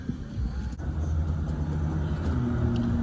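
Cars driving past on a road heard from inside a stopped car waiting in a left turn lane, a steady low rumble of traffic with engine drone, continuous and fairly loud.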